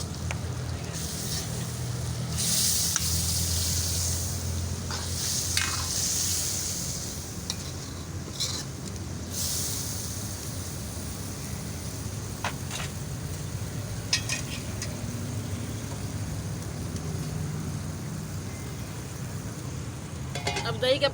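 Steady sizzling and frying of chicken with yogurt in a wok, with occasional stirring scrapes and clinks, continuous and fairly close, no talking.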